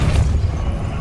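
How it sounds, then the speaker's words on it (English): Spell impact from Hogwarts Legacy gameplay, a brief dense low boom with a rumbling burst that fills the whole moment, no voice over it. "Arresto momento pulso"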